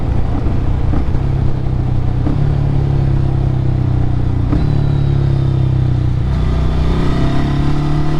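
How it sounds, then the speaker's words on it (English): A 2024 Ducati Scrambler motorcycle exhaust drones loudly and up close during riding, the engine note shifting in pitch through downshifts with brief changes in tone, and no voices over it. "Let's see if we can hear the down shift."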